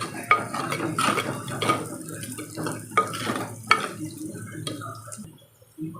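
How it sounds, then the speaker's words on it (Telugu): Curry leaves dropped into a cooking pot of onions and stirred, with a spoon scraping and clinking against the pot in repeated close strokes over a low sizzle. "కరివేపాకు వేసేస్తున్నాను."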